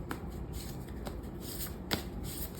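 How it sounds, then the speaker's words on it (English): Tarot cards are shuffled by hand at close range, a soft, continuous riffling with a few sharper flicks and slaps as the deck is cut and gathered. "I'm going to shuffle on camera."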